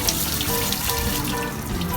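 Water gushes steadily from a tap attached to a crawfish boiler, a loud, close, continuous splashing flow used to cool the boil.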